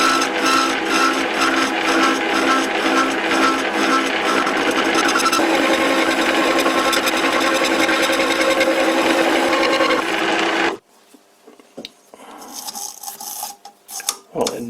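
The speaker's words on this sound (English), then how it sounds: "I will be using plenty of oil and feed it very slowly, running at the lowest RPM that this lathe can do." A metal lathe running at its lowest speed cuts slowly with plenty of oil, giving a continuous rasping, grinding churn with a regular pulsing rhythm that stops abruptly near the end, followed by quieter scattered handling noises.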